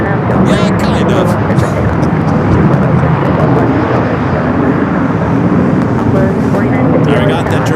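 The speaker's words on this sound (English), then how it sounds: "There we got the Dreamliner up next, Korean Flight 11. Now making its way over to the gates of Tom Bradley." A Korean Air Boeing 787 Dreamliner taxis at LAX toward the Tom Bradley terminal, a loud, steady engine roar and rumble filling the whole stretch, with wind-like broadband noise and faint voices.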